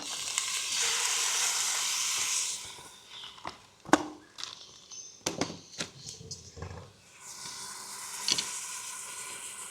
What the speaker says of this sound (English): Put the pork mince in.